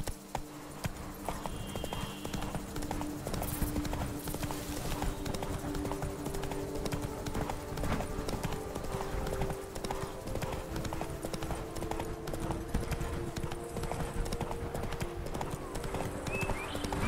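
Horse galloping in The Witcher 3 video game: rapid, steady clip-clop of hooves continues throughout at moderate loudness, with ambient game sound underneath and no talk.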